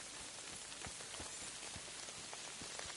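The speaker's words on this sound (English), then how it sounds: "I forgot how real the rain sounds in this game." Rain in the video game Kingdom Come: Deliverance 2, a steady soft hiss of falling rain dotted with scattered sharper droplet ticks, fairly quiet and free of talk.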